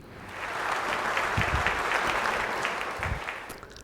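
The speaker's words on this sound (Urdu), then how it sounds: "تالیاں بھی ہونی چاہیے" Moderate audience applause at a Ramadan quiz competition grand finale, a steady wash of clapping that swells and holds for a few seconds at a modest level.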